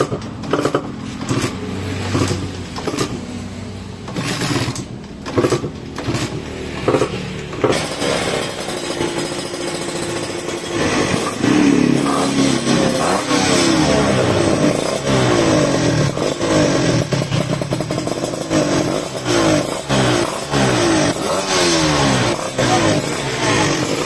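Honda LS125 motorcycle fitted with an AMG carburetor revving up close, its engine rising and holding in loud, rattling bursts for a sustained stretch.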